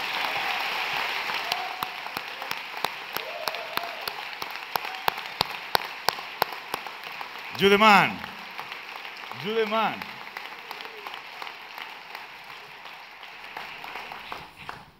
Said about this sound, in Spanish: exijo un aplauso enorme a Asier Echeandía